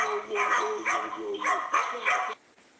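A dog yaps in quick, fairly close barks, about six sharp bursts over two seconds, then falls quiet with faint background noise.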